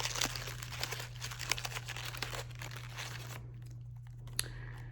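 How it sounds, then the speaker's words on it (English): A balled-up piece of white paper crinkles and crunches close by in dense, irregular bursts for several seconds under a steady low hum, then thins to a few faint rustles. "I have a balled up piece of paper, a balled up piece of white paper,"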